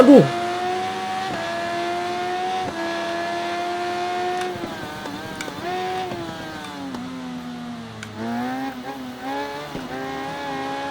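A high-revving motorcycle engine in the racing video game RIDE 3 roars continuously, pitch climbing and dropping through gear shifts, loud and close.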